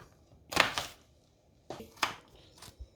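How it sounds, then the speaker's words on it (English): A knife chopping onions on a board, heard as two quick clusters of crisp, close taps separated by a short pause, the second cluster ending in a single soft thud, with no talking. "So I've chopped up all the onions now"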